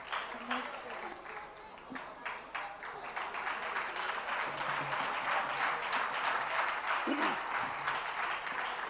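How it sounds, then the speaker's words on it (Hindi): An audience bursts into sustained applause, loud and continuous, with a voice briefly sounding over the clapping early on. "जोरदार तालियां सभी के लिए"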